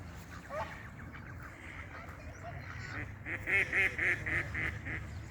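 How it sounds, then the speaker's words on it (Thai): Ducks call at a lake outdoors, a run of nasal honking quacks that builds into a steady rhythmic series toward the end, moderately near over a low, constant background rumble. "นี่เป็ดกาบพวกเขียว"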